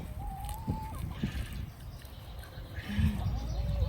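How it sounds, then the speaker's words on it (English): Chickens fuss at the edges of a kohlrabi patch, sneaking in to grab leaves, with a few brief clucks and squawks over steady outdoor rustling and low background noise. "chickens are trying to sneak in from the sides and grab a leaf before she boots them out"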